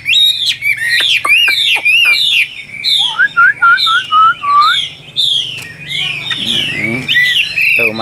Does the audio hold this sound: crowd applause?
no